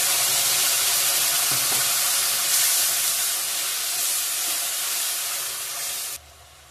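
Onion, bay leaf and cumin sizzling in hot oil in a home kitchen, a loud continuous hiss and crackle that drops away abruptly near the end.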